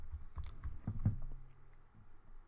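Quiet keyboard typing, a short burst of irregular clicking keystrokes close by, tapering off toward the end.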